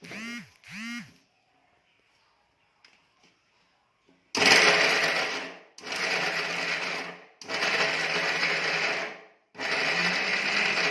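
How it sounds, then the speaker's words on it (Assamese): A mixer grinder grinds chopped coconut pieces for coconut laddu in four loud, whirring bursts with short pauses between them, after a few brief quacking calls and a quiet lull. "তাৰ পিছত মই এতিয়া এইখিনি গোটেইখিনি মিক্সিত পিচি ল'ম ভালদৰে।"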